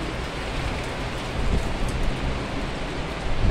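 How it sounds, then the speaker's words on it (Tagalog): Heavy rain pouring down in Makati at lunchtime, a dense steady hiss of downpour that swells slightly partway through, with no voices over it. "Grabe, ang lakas ng ulan."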